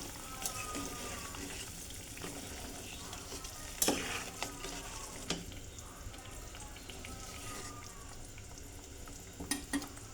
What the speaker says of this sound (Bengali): এখন ঢেলে দেওয়ার পর আমি ভালো মতো নেড়ে চেড়ে নিব।